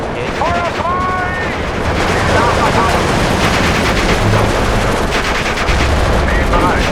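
Machine-gun and rifle fire in the WWII strategy game Steel Division 2, with dense rattling bursts and a sustained barrage across the whole stretch, mixed with short whistling effects and brief game voice callouts.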